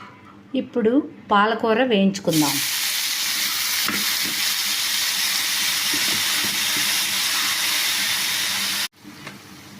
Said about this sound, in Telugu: ఇప్పుడు పాలకూర వేయించుకుందాం